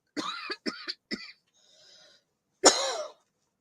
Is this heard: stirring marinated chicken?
no